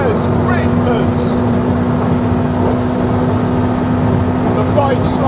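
A Ducati 1199 superbike and a McLaren P1 hypercar rush along at speed, heard as a loud, continuous engine and road roar with a steady droning tone and no letup from start to finish.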